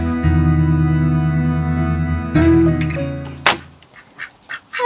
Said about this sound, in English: let's go and check on the ducks